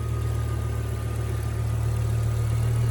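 A 2010 BMW M6 with a 5.0 liter V10 idles steadily up close, a smooth, even, low mechanical hum that holds at the same loudness throughout.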